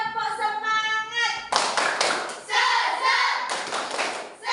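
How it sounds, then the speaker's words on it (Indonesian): Classroom group doing a rhythmic 'tepuk semangat' cheer clap, with bursts of clapping in patterned rhythm following a voice, with voices and chanting around the claps. "Kita lakukan tepuk semangat dulu biar lebih semangat lagi."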